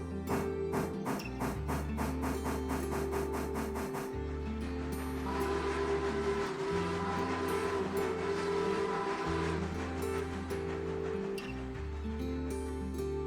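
A freight train running in the Railroader video game: a rhythmic chuffing exhaust beat over a low rumbling drone, joined by hissing steam and clanking that keep a steady, close level throughout, with no voices.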